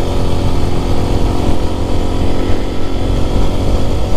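A Lifan KPX250 motorcycle with an overhead-cam engine runs steadily nearby, its loud, even buzzing idle holding without a break.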